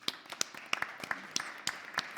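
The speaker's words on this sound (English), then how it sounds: "Big applause for Elena." Sparse applause from a conference plenary audience: scattered, distinct individual claps sounding fairly close and moderately quiet, with no talk over them.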